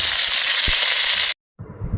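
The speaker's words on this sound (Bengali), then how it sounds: "তেল গরম হয়ে গেছে এবারে কাঁকড়াগুলো ছেড়ে দেব" Crabs drop into hot oil in a wok with a loud, dense sizzle that cuts off abruptly, then a quieter bubbling fry resumes.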